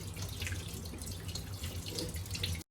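Rice rinsed under a steadily running kitchen tap, water splashing continuously into a sink-side bowl at close range, with no voices.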